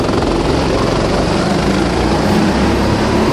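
Engines of eleven cadet go-karts drone together in a loud, continuous buzzing wash at a race start, steady and dense with no gaps.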